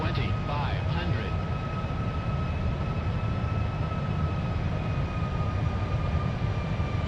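Boeing 747-400 jet engines on approach in Flight Simulator X, a steady, dense low roar with a thin high whine, constant throughout and heard alone.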